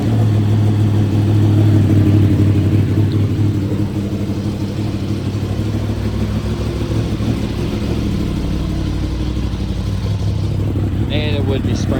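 A Yamaha MT-10 motorcycle engine, freshly tuned, fires up and settles into a loud, steady rumbling idle close by, with a faint high chirp near the end.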